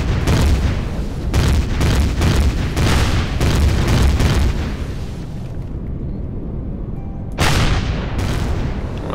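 Weapons fire in the sci-fi survival game Empyrion Galactic Survival booms out as a series of loud, heavy blasts, roughly a dozen in quick succession, then a lull and another burst near the end.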